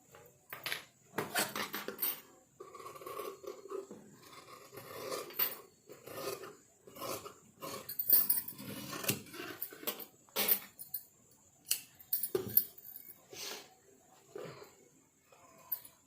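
Hand scissors snip through jacket fabric in a long run of irregular crisp clicks and rasping cuts, some quick clusters and some spaced pauses, close and fairly clear.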